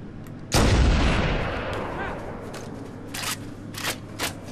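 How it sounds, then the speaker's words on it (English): Heavy gunfire in the Halo video game: a loud, close blast that rings out and decays, followed by several sharper, fainter shots trailing off. "Taking heavy fire!"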